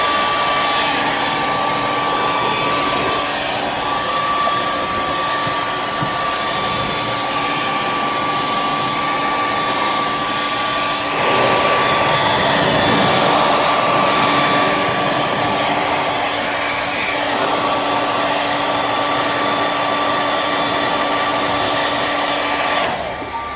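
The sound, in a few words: hair dryer heating paint protection film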